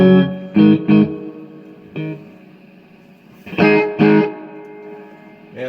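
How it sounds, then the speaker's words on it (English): A 1985 Marshall 5210 solid-state amp with heavy reverb: short distorted guitar chords ring out in several separate bursts, each followed by a long, washy decaying tail. "man, that's a big reverb."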